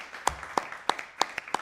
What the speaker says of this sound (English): We clap for that, yes.